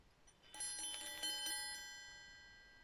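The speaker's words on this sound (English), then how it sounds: "I heard the bell 3 times" Several bright, tonal bell strikes ring out in quick succession, each with a sustained metallic shimmer that slowly decays into quiet; no one speaks.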